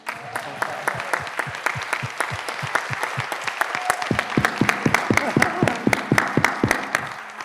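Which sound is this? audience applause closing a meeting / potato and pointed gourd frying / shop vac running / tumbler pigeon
audience applause closing a meeting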